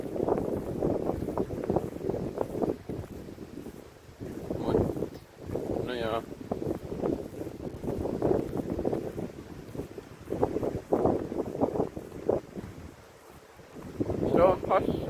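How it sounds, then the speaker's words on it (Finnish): Wind blowing outdoors, buffeting steadily across the microphone in gusts with people talking underneath. "Täällä tuulee."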